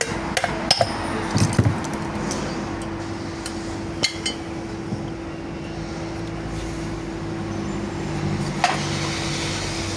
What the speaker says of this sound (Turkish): Az bir şey çekiç yardımıyla